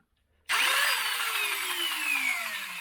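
Motors in a modded Nerf Rapidstrike blaster spin up abruptly after silence into a loud, steady high-pitched whine that sustains and slowly drops in pitch as it winds on; no talking.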